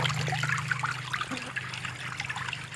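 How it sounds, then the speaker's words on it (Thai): Water draining out of a frog pond during a water change, a steady close trickle and splash running continuously under a low hum, with no talk. "ระบายน้ำออกเขียวปึ๊ดเลยนะครับ"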